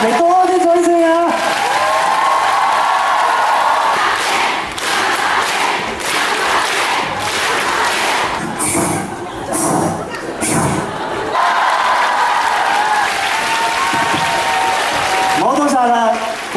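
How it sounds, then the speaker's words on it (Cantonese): A crowd at Kazuya Kamenashi's Hong Kong fan meeting applauds and cheers loudly for most of the stretch, and a host's voice on the microphone rises over the noise at times. "大家俾多啲掌聲啊！"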